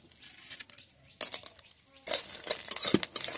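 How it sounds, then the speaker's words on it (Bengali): Lentil dumplings (bori) dropped into hot oil in a kadai start frying. Clatter and a burst of sizzle come in, then fill the rest of the clip, with intermittent stirring sounds and a voice faintly in the background. "এবার আমি বড়িগুলো এর মধ্যে দিয়ে দিই।"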